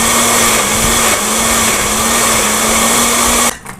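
Electric blender grinding green mango with a little hot water into a paste, a loud, steady whirring roar that runs on and then cuts off abruptly near the end.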